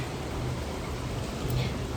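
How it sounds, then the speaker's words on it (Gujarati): Steady heavy rain hisses continuously, a dense wash of noise with no pauses, close and fairly loud throughout. "ત્યાં સુધીમાં તો વરસાદ આવવા માંડ્યો છે જોરદાર"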